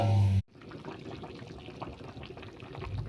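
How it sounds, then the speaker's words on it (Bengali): Water poured into a pan of soybean, kohlrabi and potato curry, a soft, close sizzling pour after a brief loud burst at the start, running steadily to the end. "এবার জল দিয়ে দেবো।"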